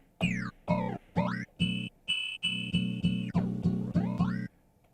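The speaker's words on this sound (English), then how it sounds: "Ring modulation." Repeated sample hits from a Zoom Sampletrak lo-fi sampler through ring modulation, metallic tones sweeping up and down across a steady pulsing rhythm, close and clean with no talking.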